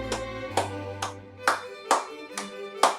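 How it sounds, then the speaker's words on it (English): Children clap their hands during a music class, about seven separate, evenly spaced claps at a brisk steady beat, with tuneful tones sounding in between. "Can we do clap up high?"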